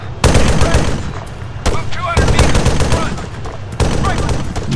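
Loud, repeated bursts of rifle and machine-gun fire in an ARMA 3 armed assault battle, close and dense, with short pauses between volleys.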